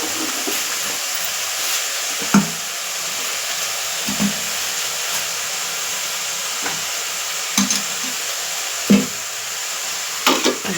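Salted greens frying in a pan, a steady sizzling hiss that runs throughout, with occasional faint clinks and stirring knocks.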